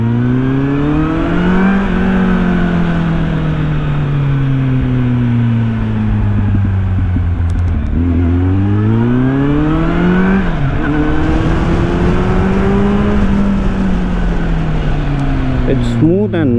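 Kawasaki motorcycle engine while riding, a loud, smooth drone that rises and falls in pitch through repeated gear shifts and throttle changes, heard close up with wind noise.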